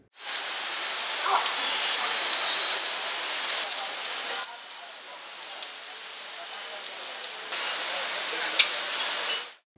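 Steady rain pours down in Narayanganj, Bangladesh after Eid, a dense hiss of drops on surfaces that eases briefly midway and then returns at full strength, with no voices heard.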